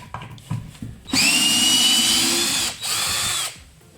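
Parkside PABS 20-Li E6 cordless drill driver backing out long screws, whirring loudly and steadily for about a second and a half, pausing briefly, then whining again, after a few handling clicks.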